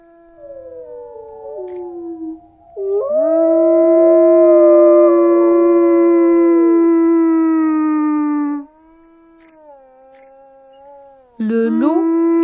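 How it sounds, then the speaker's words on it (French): Wolf howl, likely a recorded call played in a French lesson on animal sounds: a long, loud, rising and wavering howl of about six seconds, followed by a quieter tail and a brief renewed burst, with no talk over it. "Le loup hurle."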